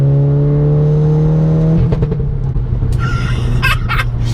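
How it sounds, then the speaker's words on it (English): A loud Audi 8P S3 engine drones steadily, then the exhaust roars and crackles with sharp pops and bangs as the revs climb. "Listen to, listen to the exhaust."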